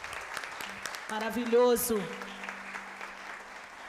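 Audience applause rises as a broad wash of clapping at a formal ceremonial session, under a speaker's voice and a sung or drawn-out vocal note.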